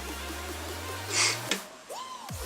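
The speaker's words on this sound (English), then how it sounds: "I'm sorry for my sniffling." A short sniffle through a stuffy nose, one quick nasal intake, faint and close in a quiet room.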